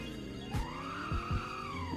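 A Hennessy Camaro in a video game accelerating from a standstill, its engine pitch sweeping upward through gear changes with short tire chirps and thumps, brief and fairly quiet, without talk.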